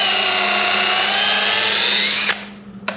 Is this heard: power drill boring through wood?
yes